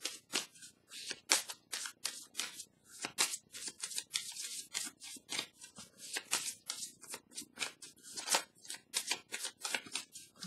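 Tarot cards are shuffled and drawn by hand, crisp papery riffles and flicks arriving in quick irregular bursts, close and quiet with no talking.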